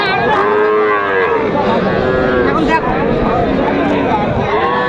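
At a crowded village cattle market in Dinajpur, small bull calves give loud, repeated moos. The lowing rises and falls over a steady din of nearby voices and market noise.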